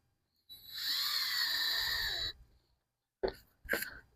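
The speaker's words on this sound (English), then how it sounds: "So I'm going to go around and screw this whole thing together." A power drill drives a screw into the floor of a plastic storage shed, whirring steadily for about two seconds, then two short bursts of the drill after a pause.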